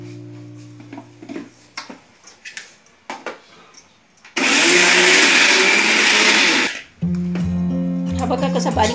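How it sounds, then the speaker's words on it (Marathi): Mixer grinder grinding thombra, a spice mixture for thombar wada, in a home kitchen; a loud, steady whirring burst of about two and a half seconds rises abruptly, cuts out, and the motor restarts briefly, with someone talking before it. "आता पुन्हा याला मिक्सरला लावूया"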